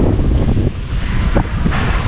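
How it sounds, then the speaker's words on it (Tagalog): Strong wind roars across the microphone in a broad, buffeting rush near a pigeon loft, steady and loud, with no voices. "Lakas sa hangin, ah."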